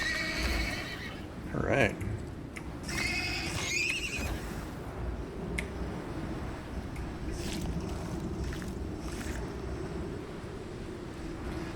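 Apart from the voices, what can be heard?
baby horse neighing in the video game Icarus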